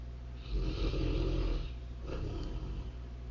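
The Dude from The Big Lebowski snoring, one deep rumbling inhaled snore that rattles for over a second, then a second softer snore, close and alone.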